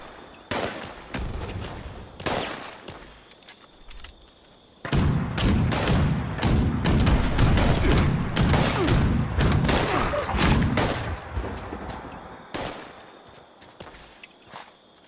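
Repeated gunfire in Fallout 76, sharp isolated shots at first, then a dense loud stretch of shooting and impacts before tapering back to sporadic bangs.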